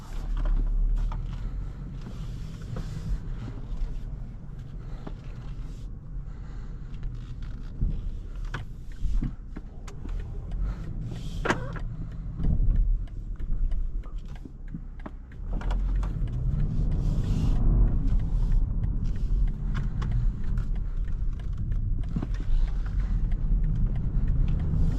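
A 2023 BMW 330e plug-in hybrid accelerates hard in extra boost mode, its engine and electric drive building a steady, loud low rumble that swells further partway through, with road and wind noise all around and no one talking.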